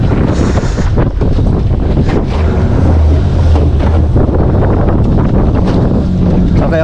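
Big sea waves heard from a boat, loud rushing surf and water churn mixed with strong wind buffeting the microphone, constant and close throughout.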